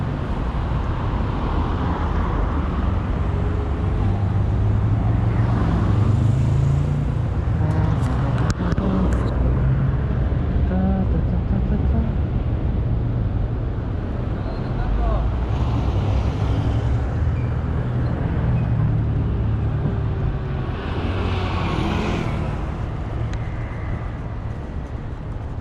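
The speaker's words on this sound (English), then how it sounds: "So I'll wait till the cars allow us to cross again." Steady city street traffic in Mexico City's Roma neighborhood, with cars and heavier vehicles rumbling past continuously at close to medium range, a dense, even roar with occasional swells as individual vehicles go by.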